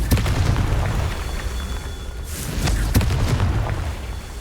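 Confringo spell explosions in the Hogwarts Legacy video game, a string of deep booming blasts with sharp cracks rumbling over a continuous low roar, loud and close, with no talking.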